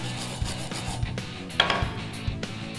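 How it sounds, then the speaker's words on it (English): A wire brush scrubs back and forth over metal to clean a spot before welding with a Blue Demon BD-3000 welder, giving uneven rasping strokes with a few louder scrapes, up close and with no talking. "One of the first things you need to do is clean the area you're going to weld with the wire brush."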